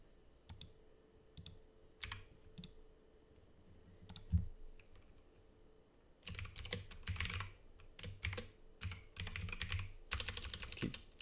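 Typing on a computer keyboard, close up and quiet: scattered single key clicks at first, then dense rapid bursts of clattering keystrokes in the second half.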